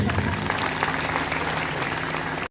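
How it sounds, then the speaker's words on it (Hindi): A crowd at an Arya Samaj religious program claps together, dense and continuous for a couple of seconds, with a possible murmur of voices mixed in before it cuts off. "तालियां बजाओ तो सब बजाओ,"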